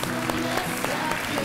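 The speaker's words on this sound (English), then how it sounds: "Let's give Ms. Sandridge another round of applause." A short stretch of audience applause at an event honoring John Solomon Sandridge, steady clapping layered with a tonal background hum and some murmuring voices.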